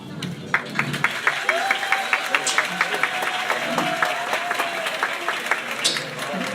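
An audience at a talk in Singapore claps along in a rhythmic, evenly spaced pattern, moderately loud and close, with voices talking over the clapping.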